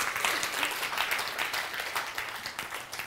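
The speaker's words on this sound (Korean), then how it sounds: "감사의 의미로 뜨거운 박수 한번 부탁드리겠습니다" An indoor gathering of a church group gives steady, moderately loud applause, a dense patter of many hands clapping that continues evenly for a few seconds.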